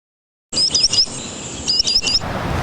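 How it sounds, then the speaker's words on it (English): A spotted sandpiper gives two quick runs of high, thin piping notes, about three each, clear and fairly close, with a soft outdoor hiss behind. "Right now we're hearing a bird here, it's a spotted sandpiper."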